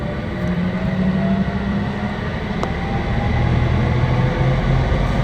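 A Paris Métro line 2 train, HP 46 rolling stock, heard from inside the carriage as it runs: a continuous loud rumble with steady wheel and motor whine tones and a brief click midway, with no voices.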